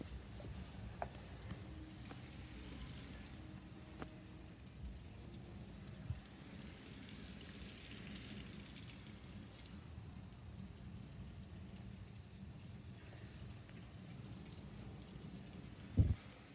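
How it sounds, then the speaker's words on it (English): Heavy rain falls during a big storm as a faint, steady patter and hiss, with a few scattered louder drop impacts and a sharper knock near the end, and no voices. "Big storm."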